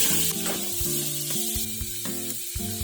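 Grated beetroot with coconut and coriander leaves sautéing in a pan for chutney, a steady close sizzle with light stirring scrapes; a tonal hum runs underneath.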